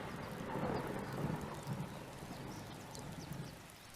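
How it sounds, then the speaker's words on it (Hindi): Heavy rain pours in a steady, dense hiss, with low rumbles of thunder rolling underneath throughout. "बहुत तेज बारिश है।"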